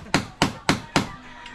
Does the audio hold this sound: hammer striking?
yes